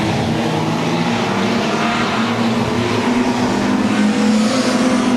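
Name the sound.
race cars driving down the back straight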